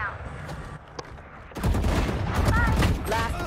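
Gunfire in a Valorant ranked match, a rapid burst of close, loud shots that starts abruptly after a quieter stretch and continues as a dense volley with crackling impacts.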